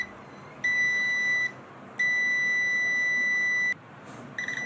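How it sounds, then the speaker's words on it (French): Steady electronic beeps from a multimeter continuity test on a relay sound in two long tones, the second lasting nearly two seconds, followed by a brief short chirp, against quiet background hiss. "Ouais, j'ai le bip sonore."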